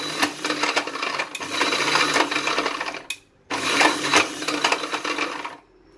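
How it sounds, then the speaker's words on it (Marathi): Ice cubes rattle and grind in a mixer jar as a chikoo and date milkshake blends in two loud pulses, separated by a short stop. "बर्फाचे खडे टाकलेत, थोडं थोडं करून चालवूया आपण मिक्सर।"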